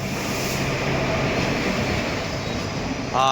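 An Ernakulam Junction to Guruvayur passenger train rumbles steadily close by with constant rail and carriage noise, and a brief squeal near the end.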